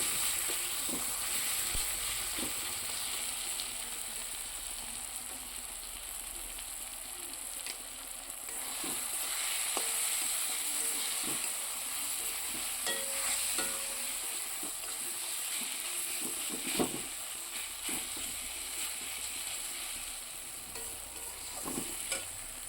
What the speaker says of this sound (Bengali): এদিকে দেখুন মশলাটা মোটামুটি ভাজা হয়ে গেছে